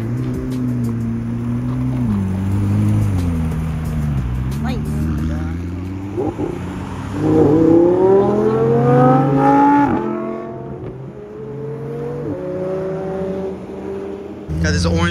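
Lamborghini supercars, including an orange Aventador and a Urus, pulling out of a Lamborghini car meet, engines droning and revving up in rising, wavering pitch close by, with voices chatting throughout.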